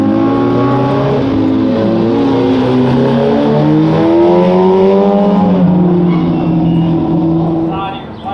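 Race motorcycle heading back out on track at Mid-Ohio, its engine revving steadily and rising through the gears, loud and fairly close throughout, then fading at the end.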